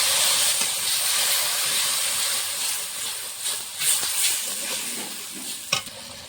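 Ginger, cumin and green chilli paste sautéing in a pan after onion and garlic, with a steady high sizzle and a few soft stirring scrapes and clinks, fairly close and alone.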